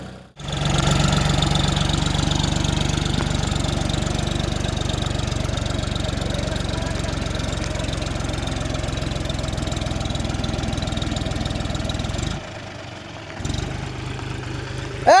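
A John Deere 5045D 4WD tractor engine running with a thresher, a loud, steady mid-low drone with a faint knocking pulse that holds for most of the span, then drops off abruptly near the end.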